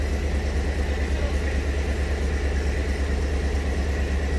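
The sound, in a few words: idling SUV engine and exhaust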